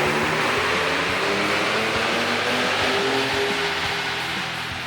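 A modified 2017 Ford Raptor pickup runs on a DynoJet chassis dyno, its engine droning loud and steady at close range throughout, with a continuous mechanical roar.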